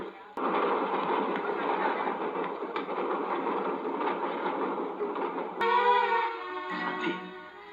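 A train waits at the station, about to depart, with a steady muffled rumble under voices. Near the end a sustained horn-like tone sounds and briefly wavers.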